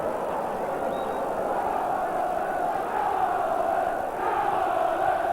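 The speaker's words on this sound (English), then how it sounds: "The crowd trying to lift Oldham here" A football crowd at an Oldham Athletic v Liverpool league match in 1992 roars and chants in a sustained, loud wall of massed voices, steady for several seconds.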